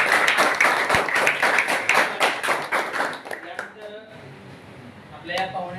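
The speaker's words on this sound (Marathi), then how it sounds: "मी यांच्यासाठी जोरदार टाळ्या" Rhythmic clapping from guests and students at a high school event in Jawalethar, Maharashtra, lasting a few seconds before dying away as a person begins speaking.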